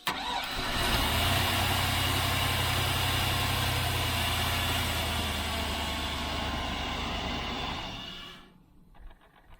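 A car engine cranks and catches on a jump starter, then runs at a steady loud idle for several seconds before shutting off, with no talk over it.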